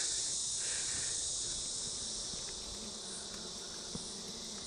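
Honeybees buzz around an open Flow Hive during a brood inspection, a dense, continuous hum that stays steady throughout, with no talking.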